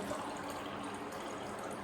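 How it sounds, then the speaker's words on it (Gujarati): Tap water filling a drinking glass, a steady, close rushing gush that runs evenly for about two seconds with no talk. "એક પાણીનો ગ્લાસ ભરું તો લાઈક કરી નાખવાનું."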